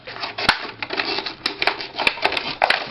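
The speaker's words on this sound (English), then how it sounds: "and then cut the top off here" Scissors or a blade cut through the top of a homemade rabbit feeder in a run of sharp, irregular snips and crunches, close and fairly loud, with no talking.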